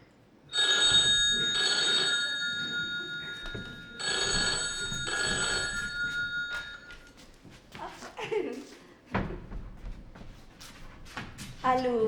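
An old-style telephone bell rings twice in long, loud bursts inside the Monkswell manor guest house, followed by a person speaking and small movements in the room.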